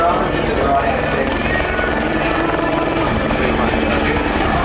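Navy helicopters flying in a formation display, giving a loud, continuous rotor roar and thumping drone close by, with someone talking over it.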